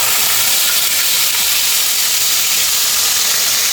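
Chopped onion hits a hot pan already holding cumin, mustard seeds and fenugreek, giving a loud, steady, close hiss of sizzling with no talking.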